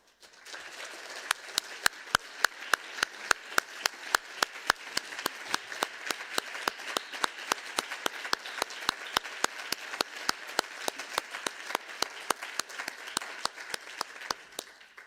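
An audience claps for the Global Assessment co-chairs at a media launch, rendered as a long stretch of evenly spaced sharp claps over a soft wash of crowd noise, quiet overall and continuing steadily.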